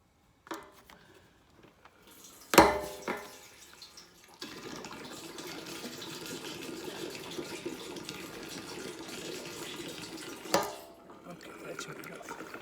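Gasoline glugs and splashes steadily into a generator's fuel tank for several seconds, framed by sharp clunks of the can and cap before and after, close up.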